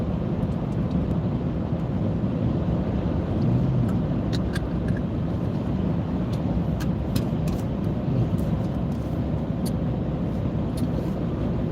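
A car drives steadily on the way to a job site, with a constant low engine and road rumble and wind buffeting the microphone throughout, alone with no talk.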